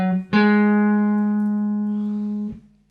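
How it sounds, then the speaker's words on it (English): A single sustained pitched tone with rich overtones rings out steadily for about two seconds, preceded by a brief lower note, demonstrating a scale degree in a blues context; clear and alone, slowly decaying. "Normally you would expect that 6 within a Mixolydian scale to sound like this"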